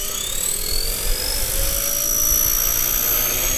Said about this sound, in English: a helicopter this size with those blades spinning near my head